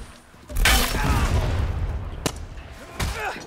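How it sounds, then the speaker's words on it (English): A loud, rumbling explosion in the video game Far Cry 6 erupts with a sharp burst and sustains a heavy low roar, followed by two more sharp impact cracks, with faint voices underneath. "what was that explosion?"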